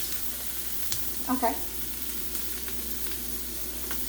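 Brussels sprouts sizzle and caramelize in a pan with a steady, moderately loud frying hiss and a few faint crackles. A brief spoken word cuts in partway through.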